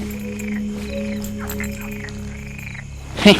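Frogs croaking in a steady night chorus, repeated rhythmic calls over a constant drone of insects, moderately loud and fairly close, ending with a brief sharp sound.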